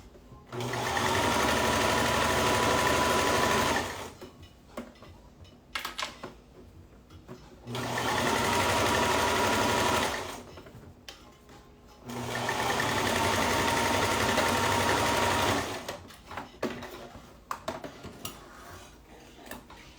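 A sewing machine stitches fabric close by in three long, steady runs, each lasting several seconds, separated by quiet gaps filled with small clicks and handling noises.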